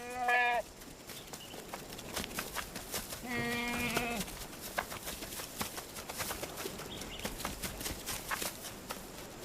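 Goats on an island bleat in short wavering cries, one near the start and another louder call in the middle, with faint rustling and movement sounds in between.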